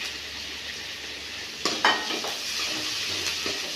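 Garlic and onion sauté in a pan for drumstick soup, a steady hiss of frying running throughout, broken near the middle by a few louder clinks and scrapes as a spoon stirs against the pan.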